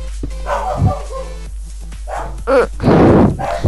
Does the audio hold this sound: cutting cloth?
no